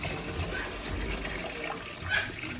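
Water is poured out of a container on a farm during chores, a fairly faint, continuous splashing trickle with no one speaking over it.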